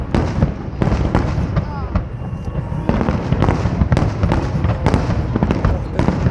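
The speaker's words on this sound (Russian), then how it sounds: "какой длинный салют" Fireworks over the sea at a seaside promenade pop and crackle in a long, rapid, irregular barrage of sharp bursts, loud and close, while people chat nearby.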